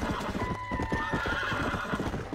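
Horse hooves clip-clop steadily in Red Dead Redemption: Undead Nightmare, joined by a loud whinny, with a dense, continuous clatter of game ambience and music beneath throughout.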